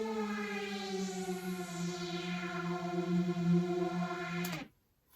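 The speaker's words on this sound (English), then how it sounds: "This is a smooth glissando on a synth. It just sounds like this." A smooth synthesiser glissando plays as a steady, harmonically rich tone that slides gently in pitch, quiet and alone, before cutting off abruptly near the end.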